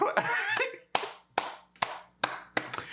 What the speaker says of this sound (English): when the crowd claps like that and pretty much agrees with him